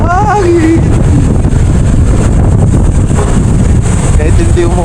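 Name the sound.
cold wind blowing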